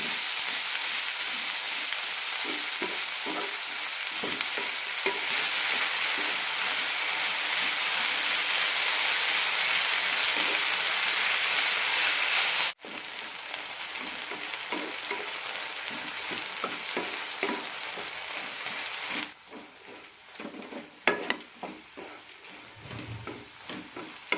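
Ridge gourd pieces sauté in a pan with salt and asafoetida, giving a dense, steady sizzle that drops abruptly to a quieter, uneven crackle midway and fades further near the end, with light stirring scrapes and no talking.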